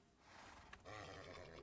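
A Minecraft horse neighs once, a faint, wavering whinny that rises after a short quiet lead-in, with no speech.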